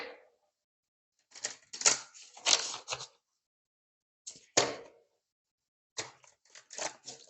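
A deck of cards is shuffled for a French card reading, with several bursts of close, crisp riffling and flicking separated by short silent pauses, heard alone with no talk.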